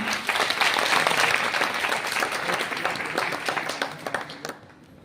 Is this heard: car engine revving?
no